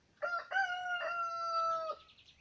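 A rooster in a henhouse crows once, a clear strained cock-a-doodle-doo rising and holding before trailing off, fairly close with quiet surroundings.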